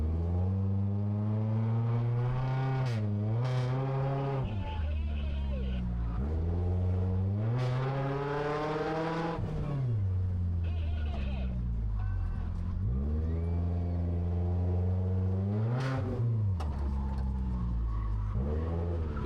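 A racing car engine screams through repeated upshifts and revs during a race against other cars including a Honda, loud and close, rising and falling pitch with gear changes.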